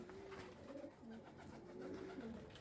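Young homing pigeons cooing up close, soft repeated throaty coos in a steady run with no talk over them.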